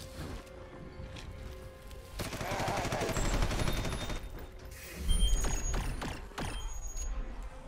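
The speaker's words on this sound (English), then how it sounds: "I have a shotgun." Shotgun fire in the sci-fi tactical game Red Solstice 2, a run of heavy booming blasts with mechanical clacks, dense and continuous, two louder bursts standing out amid ongoing gunfire and game effects.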